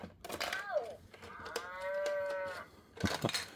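A toy farm barn plays a recorded cow moo when a toy cow is placed inside, heard as one drawn-out electronic moo between brief bursts of nearby handling sounds.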